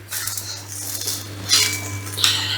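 A rolled wheat-flour dough roti is slipped into a pot of boiling water, with a soft bubbling background and two brief splashing bursts nearby.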